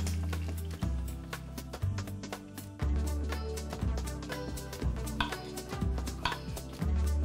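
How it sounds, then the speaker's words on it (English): A knife chops green peppers on a cutting board with a quick series of crisp strikes, heard close over steady background music. "I'm going to chop up my green peppers"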